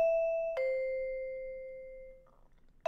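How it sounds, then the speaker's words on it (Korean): A doorbell chime rings in a Halloween-night horror video game: a loud two-tone ding-dong that sustains and fades, then a fresh strike at the very end, with no talking. "초인종 소리."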